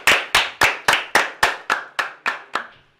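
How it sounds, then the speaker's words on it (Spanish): About ten sharp hand claps in a steady rhythm that slows slightly toward the end, close and loud with no voices. "Un fuerte aplauso para él."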